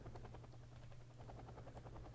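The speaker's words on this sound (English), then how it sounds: "Silveraptor's little chopper" A small helicopter in the real-time strategy game Wargame Red Dragon gives off a steady, fast rotor chop with a low engine drone, heard at a moderate distance with no talk over it.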